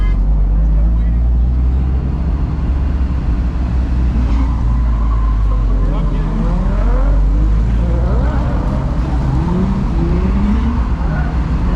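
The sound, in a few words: drift car driving at Piedmont Drift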